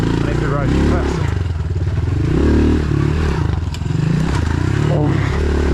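A pit bike engine revs hard and loud throughout a ride, with a continuous rough roar, rising and falling throttle and mechanical clatter, close up with no break.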